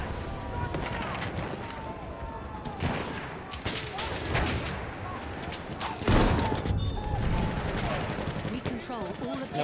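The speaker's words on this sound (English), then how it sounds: "Spotted the machine gun!" In Battlefield 1 on the Achi Baba map, dense gunfire crackles throughout, with bursts of machine-gun fire layered over explosions and battlefield chaos in a busy, loud mix.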